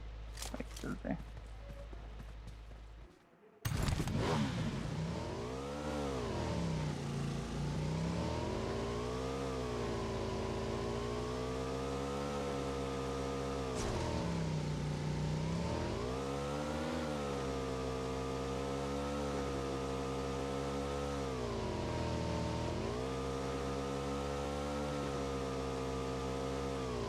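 A motorcycle in the PUBG video game starts up and revs in repeated rising and falling surges over a steady engine drone, under talking.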